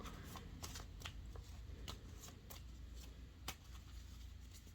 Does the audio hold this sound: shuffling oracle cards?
yes